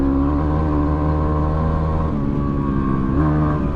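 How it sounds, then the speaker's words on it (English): Yamaha WR250R dirt bike engine revving and accelerating hard while riding through the dusty outback, a loud, continuous close-up buzzing drone with harmonic pitch sweeps as the rider shifts through the gears. "Just riding dirt bikes through the outback,"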